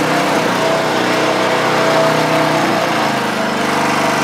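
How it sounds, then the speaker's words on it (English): A PVC pipe cutting, beveling and grooving machine's motor runs at a loud, steady drone close by, a continuous engine-like hum with a faint whine and no talking. "throttle the motor up."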